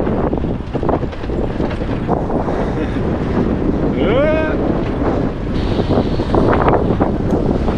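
Steady wind carrying bauxite grit buffets the microphone on a rough road in Guyana, with a low rumbling roar throughout, plus a brief rising whistle-like tone midway.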